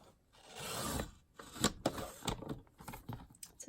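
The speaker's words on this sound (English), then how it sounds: "I try and cut it with scissors" Scissors snip and crunch through stiff card in a series of short, close cuts with rustling in between.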